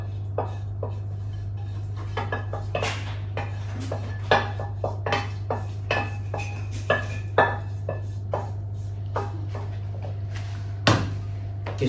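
A spoon scrapes and clinks against a metal pot while couscous is stirred together with hot sauce. The light knocks and taps come close and irregular, with no voices.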